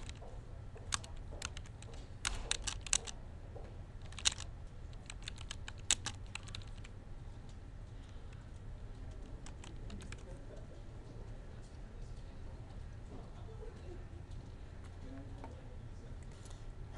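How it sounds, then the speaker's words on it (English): Typing on a computer keyboard while entering notes in a daily work journal in Prolog Manager, with bursts of faint key clicks over a low hum before the typing trails off. "tab all the way down to the notes, and then type in what that job basically was"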